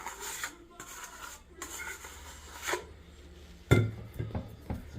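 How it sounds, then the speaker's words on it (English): A bowl scraper drags leftover sourdough bread dough off the inside of a metal bowl, giving soft, close scraping rubs and a few light metallic knocks and clinks, one sharper clank near the end. "I'll get a little stragglers off the metal here in my bowl scraper"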